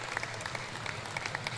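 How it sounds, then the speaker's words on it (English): Crowd at a college basketball dunk contest making noise after a dunk, brief scattered clapping and cheering at moderate distance. "Crowd making noise."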